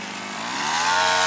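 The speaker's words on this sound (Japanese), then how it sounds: "草刈り機の音をよく聞くわ。" A gas-powered grass trimmer runs in Shirasagi Park in Sakai's Higashi Ward, its buzzing two-stroke engine climbing in pitch and loudness over a brief moment, close by and alone.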